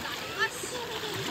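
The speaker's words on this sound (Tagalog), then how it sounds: "Naririnig mo ba ang hampas ng alon sa dalampasigan?" Waves washing onto a beach, with a faint splash and surging water under a person speaking, soft and close.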